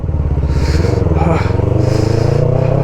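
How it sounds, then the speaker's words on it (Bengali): A Yamaha R3 motorcycle rides over a snowy road on Zojila Pass, its engine thrumming in a close, loud, steady low rumble with slight rises in revs, and voices faintly mixed in. "এখন তো বরফের উপর দিয়েই বাইক রাইড করা হচ্ছে"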